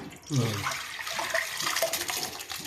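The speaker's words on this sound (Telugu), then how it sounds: "ఈ నీళ్ళన్నీ ఈ కుక్కరు ఈ కుక్కర్లో పోసుకుందామండి" Water splashes and pours into a metal pressure cooker, a steady gushing stream lasting a few seconds, close up.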